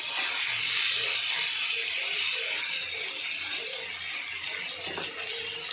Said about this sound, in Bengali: মাছগুলো এইরকম লাল লাল করে ভেজে নেব